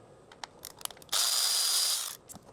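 A ratchet with a deep 8mm socket spins a stud out of a Ford Focus RS/ST mk3 engine: a few light clicks, then a loud, steady, close buzzing ratchet run for about a second before it stops.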